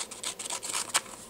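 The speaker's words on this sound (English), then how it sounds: "We're just going to cut these apart." Scissors cut apart Stampin' Up! framelit dies, giving a few quick, close, faint snipping and rubbing strokes in a quiet room.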